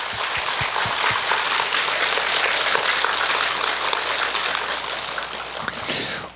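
Sustained applause from a sizeable crowd at a lecture in Jogyesa Buddhist temple, a broad wash of clapping that stays even throughout before dropping off at the end.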